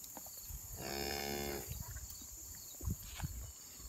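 On a dairy farm, a cow lets out one long, drawn-out moo as calves come out to their mothers, followed by quiet shuffling and faint thumps from the herd nearby.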